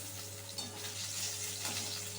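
Fish pieces shallow-frying in oil over a medium gas flame for fish biryani, a close, steady crackling sizzle with light spattering throughout and no voices.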